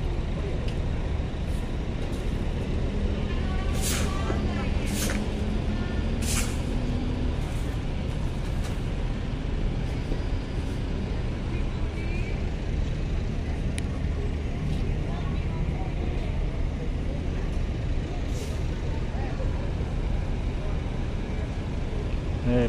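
Pickup trucks and other vehicles crowd the dock at Bakauheni ferry port on a Sunday night, with a steady, dense rumble of engines and traffic. Sharp bangs and clanks sound now and then through the constant noise.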